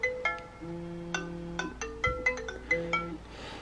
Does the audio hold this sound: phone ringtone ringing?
yes